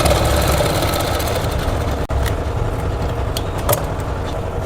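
Domestic sewing machine stitching elastic into the hem of palazzo trousers, a steady loud mechanical whirr running continuously, with a brief pause partway and a few light clicks near the end.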